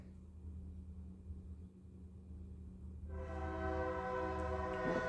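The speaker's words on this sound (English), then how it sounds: "there's a train" Train passing in the distance, a steady low rumble that swells and then carries a sustained tonal horn or wheel squeal in its second half, with no talk over it.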